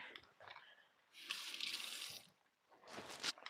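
Tap water runs and splashes over hands at a sink in two close bursts, with a quiet gap between them and no voices.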